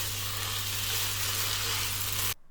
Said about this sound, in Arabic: دلوقتي هنزل بالصوص اللي عملناه على الرز، وهشوح بقى حوالي كمان 5 دقايق